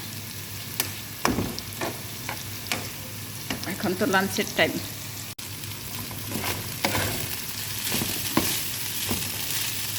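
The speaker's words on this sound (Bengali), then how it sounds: "চালটা অনেক ভাজা ভাজা করছি" Rice frying in a pan for chicken and pea pulao, a continuous sizzle with repeated scraping and clattering of a spoon as it is stirred, while a voice speaks briefly over it.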